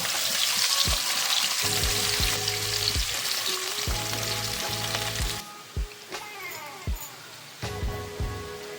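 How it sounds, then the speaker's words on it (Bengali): Boiled potatoes sizzling loudly in hot oil with turmeric, stirred with a spatula in repeated scraping strokes; the frying hiss drops partway through while intermittent scrapes continue, close by. "একটু নেড়ে চেড়ে লাল লাল করে ভেজে নেব"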